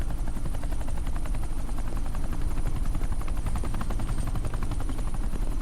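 A helicopter in flight, its loud, close rotor chop beating steadily and unbroken, with a heavy low engine roar underneath.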